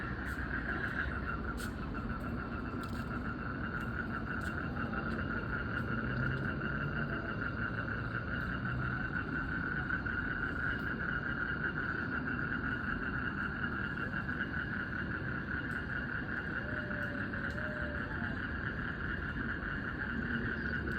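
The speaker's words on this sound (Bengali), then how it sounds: "আর দেখেন কত ঝিঝি পোকার ডাক।" Dense chorus of crickets and frogs at night on a dark rooftop where food is being cooked, a steady shrill drone with no pauses across the whole span, fairly distant and unbroken by any talk.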